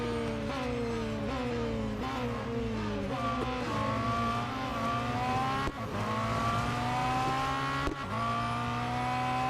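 Race cars roar continuously in the Real Racing 3 video game, engines revving and shifting through rising and falling pitch sweeps, loud and close, with a couple of brief dips between gear changes.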